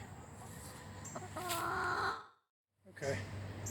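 Backyard chickens in a chicken run clucking and murmuring close by, a steady low hubbub that breaks off into a brief silence before resuming.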